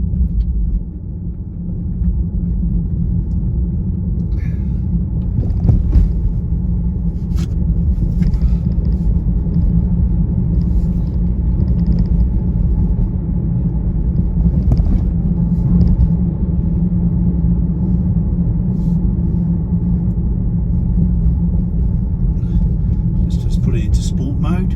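A Tesla Model Y drives on regenerative braking only, with a steady low road and cabin rumble throughout and a person talking over it.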